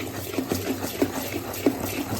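Water is poured into soaked, ground lentil batter for vatidal khaman, making soft splashing and gurgling with a few brief louder pours, close by and without talk.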